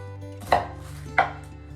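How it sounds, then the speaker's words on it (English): Knife cutting through an onion on a board, two crisp chops about half a second apart, close and clear over a quiet kitchen hum. "I'm going to make several orbital cuts like this around the onion"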